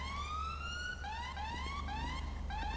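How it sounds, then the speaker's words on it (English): A Land Rover Discovery 4 ambulance siren in a roleplay video game wails in repeated rising sweeps, steady and fairly loud, with a low engine hum underneath. "Somebody turn your sirens on and off, please."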